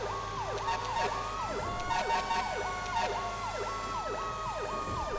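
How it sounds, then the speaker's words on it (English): Fire engine siren from a GTA 5 firefighter mod with a new Spartan engine, a steady repeating wail that sweeps up and down over the rumble of the vehicle, moderately loud and heard alone. "These horns sound so good"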